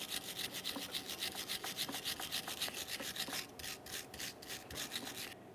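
Wire brush scrubbing the brake caliper bracket area on a 2002-2009 Chevrolet Trailblazer front brake job, a fast, even run of bristly rasping strokes up close, steady for several seconds with no voices.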